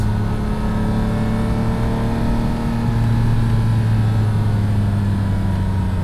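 A Lamborghini Countach engine drones steadily from inside the car on an open road, a loud, even low-pitched rumble with a slowly rising tone as it pulls, no voices over it.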